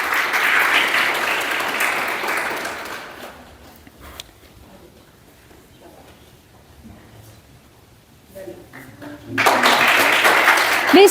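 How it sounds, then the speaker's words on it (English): An audience at a women's college event applauds the champion cricket team with loud, sustained clapping that dies away into quiet before rising again near the end. "A huge round of applause for the champions"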